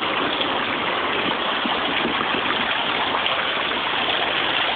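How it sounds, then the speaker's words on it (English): A waterfall at Wildwood Inn in Newport, Kentucky pours in a steady, full rushing roar with no break, heard fairly close and without voices. "I love the sound of the waterfall."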